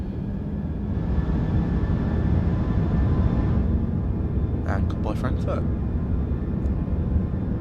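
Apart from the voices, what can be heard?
Airbus A340-300 jet engines spooling up on takeoff roll in Microsoft Flight Simulator 2024 video game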